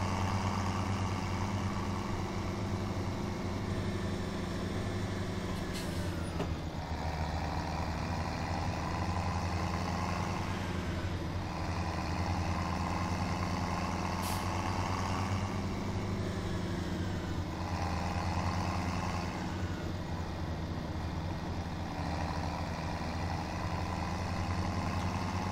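A tractor engine in Farming Simulator 17 drones steadily for the whole stretch, a low, constant idle-like hum with faint shifts in tone, loud and even, with no talking.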